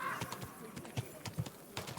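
A horse in the medieval video game Kingdom Come Deliverance 2 clip-clops at an easy walking rhythm with a short whinny at the start, fairly quiet.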